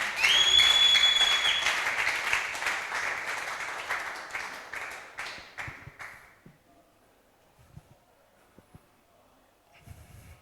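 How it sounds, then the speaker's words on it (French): A congregation at a doctrine school session bursts into loud applause that gradually thins out and fades over several seconds, leaving a few scattered claps and near silence. "Oh, applaudissez pour cet homme."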